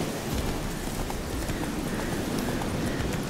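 Horse hooves clip-clop steadily in The Witcher 3 video game, an even rhythmic trotting under a bed of wind-like ambient noise, with no voice over it.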